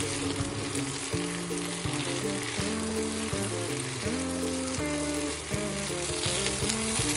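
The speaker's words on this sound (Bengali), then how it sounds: "সমস্ত সবজিগুলো দেওয়ার পর আমি হাই ফ্লেমে 2 মিনিট ভেজে নিচ্ছি।" Mixed vegetables fry on high flame in a pan for a fish stew, giving a continuous loud sizzle that runs under steady background music.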